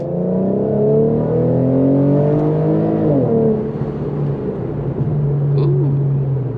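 2014 Infiniti Q50S with a 3.7 engine accelerates hard, its revs climbing through a gear, a brief dip at the shift, then pulling again with a steady, loud in-cabin drone.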